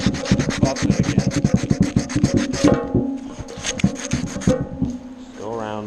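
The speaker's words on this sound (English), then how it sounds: "You can go ahead and take your sandpaper and buff it again." Sandpaper buffs the drum shaft of a Speed Queen commercial washer during a drum bearing replacement, rapid rhythmic scraping strokes close and loud, slowing into a few separate rubs before stopping.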